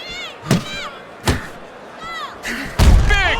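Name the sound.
punch knocking down a boxer in Fight Night Champion video game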